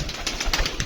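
Pigeons cooing in a backyard loft, a soft brief murmur with a few faint flutters, close by and with no talk.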